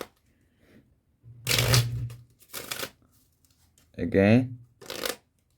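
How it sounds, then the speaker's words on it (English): A deck of playing cards is shuffled during a short close-up card magic trick, the riffling bursts coming in several separate passes with brief pauses between them, under someone talking. "we can shuffle the card as many times as you want"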